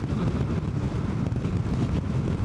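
Wind buffets the rider of a 2025 Honda NC750X motorcycle, a loud, steady roaring rush that fills the whole moment without letup.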